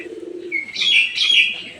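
A pigeon coos softly at first, then gives louder, higher cooing calls nearby, alone without any voices.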